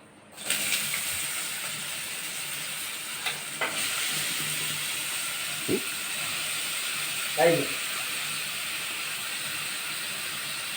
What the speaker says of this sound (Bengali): তার জন্যে আমি এমনি শুধু শুকনো লঙ্কা ফোড়ন দিয়েই করছি